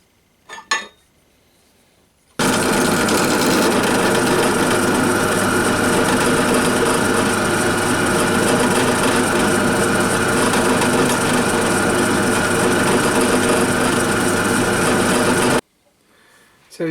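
A drill press bores holes into a metal casting for a model engine build, a steady dense grinding whir running unbroken for about thirteen seconds between short quiet gaps, close and loud with no talk.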